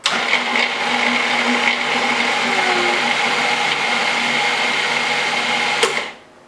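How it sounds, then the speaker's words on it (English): A loud blender pulses briefly, then whirs continuously for several seconds with a steady grinding roar while blending a spinach filling, then cuts off abruptly near the end. "let me pulse that for just a little and blend it. It's going to be loud"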